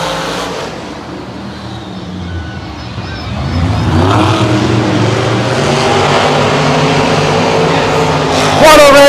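Monster trucks, including Grave Digger, race at the Monster Jam World Finals, their engines roaring loud and building in intensity while a crowd hums and an announcer-like voice carries underneath.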